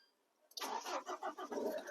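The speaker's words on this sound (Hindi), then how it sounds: "जैसे ये हाफ सेल्फ में गाड़ी स्टार्ट हुई है" A used car's engine cranks on the self-starter and catches after a short crank, then runs with an uneven, pulsing idle, close and fairly loud after a moment of near silence.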